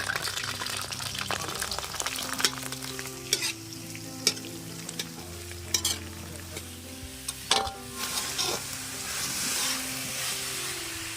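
Mixed vegetables frying and being stirred in oil in a pan in a village kitchen, a steady sizzle broken by scraping stirs and clanks, with some voice in the background.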